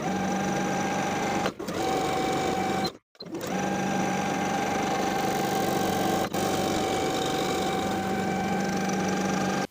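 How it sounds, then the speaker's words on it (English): A sewing machine edge-stitches close to the raw edge along the sleeve hem and bodice hem of a two-piece outfit. It gives a steady, even mechanical whir that breaks off briefly twice before running on alone. "Then I'll sew the sleeve hem and the bodice hem all the way around,"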